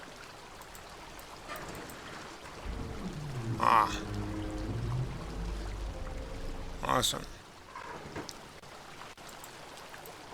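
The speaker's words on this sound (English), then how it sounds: "you can't really hear it over the waterfall" A loud waterfall in the video game Obduction rushes steadily, a continuous wash of water noise that swells and fades, with a person briefly speaking over it.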